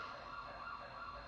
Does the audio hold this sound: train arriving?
no